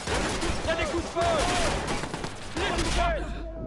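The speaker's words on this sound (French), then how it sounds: "Il y a des coups de feu." Gunfire in the Watch Dogs video game comes as a quick burst of crackling shots against game audio, loud and close, with shot-like pulses repeating over a few seconds before the sound cuts off.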